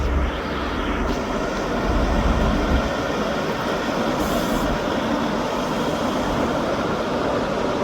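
Train 43032, a diesel, at Dundee station, giving a steady, loud low engine rumble that holds for the whole stretch with a brief higher hiss partway through.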